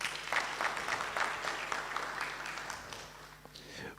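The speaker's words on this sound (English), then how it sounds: "another clap for Mr. Fidelis" An audience at a cybersecurity graduation ceremony claps for Mr. Fidelis, steady and moderately loud throughout, with a low hum underneath.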